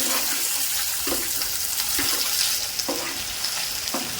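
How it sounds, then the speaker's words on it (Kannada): Green chillies, chopped onion and tomato frying in hot oil in a pan for an okra fry, a steady loud sizzle with periodic stirring scrapes about once a second. "ಇದಕ್ಕೆ ಕಟ್ ಮಾಡ್ಕೊಂಡಿರೋಂಥ ಈರುಳ್ಳಿ ಮತ್ತು ಟೊಮೆಟೊ ಎರಡನ್ನೂ ಹಾಕ್ತಾ ಇದ್ದೀನಿ"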